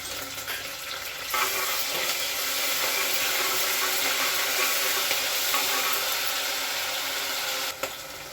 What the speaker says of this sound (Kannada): ಸ್ವಲ್ಪ ಬಾಡಿಸ್ತೀನಿ. ಸ್ವಲ್ಪ ಶುಂಠಿ ಬೆಳ್ಳುಳ್ಳಿ ಪೇಸ್ಟ್